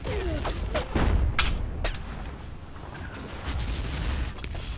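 Battle noise from the video game Battlefield 1942, with a grenade explosion among a dense, rumbling fusillade of gunfire and booming thuds, loud and continuous over several seconds.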